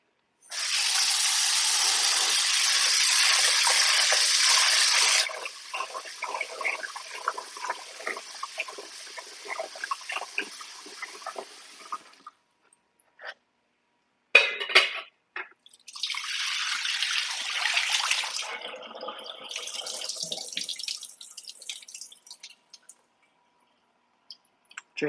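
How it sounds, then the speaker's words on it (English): Cold tap water runs over drained pasta in a kitchen sink. A steady loud rush lasts about five seconds, then thins into lighter splashing and dripping, breaks off, and returns in uneven bursts of flowing water. "Drain it and hit it again with some more cold water"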